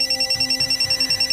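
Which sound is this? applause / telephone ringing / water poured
telephone ringing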